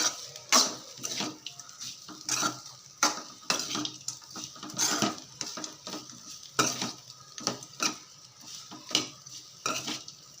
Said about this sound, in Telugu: ఇలా వేసేసుకొని బాగా మనకి రైస్కి పట్టేలాగా కలుపుకుందాం